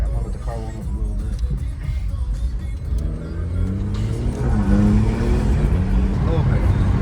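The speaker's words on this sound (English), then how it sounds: "I'm gonna let the car warm up a little bit." A stage 2 tuned BMW 440i Gran Coupe idles as it warms up, its engine a low steady rumble with slight rises in pitch, heard from close by while people talk over it.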